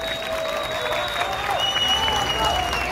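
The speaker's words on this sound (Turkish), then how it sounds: "Bir alkış yapalım kaptanımıza" An audience at a final match and award ceremony applauds a team captain: dense, steady clapping from a crowd that holds through the whole moment, with faint voices mixed in.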